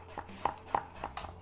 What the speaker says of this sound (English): So slice your carrots thinly.